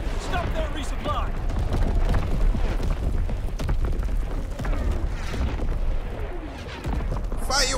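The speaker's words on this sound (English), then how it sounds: "Incoming enemy artillery." Incoming enemy artillery in Call of Duty WWII lands in repeated booming blasts under dense game chaos, with voices talking over the steady barrage.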